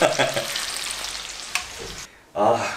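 Food sizzling and frying in a pan, a loud continuous crackle that briefly drops away before surging back.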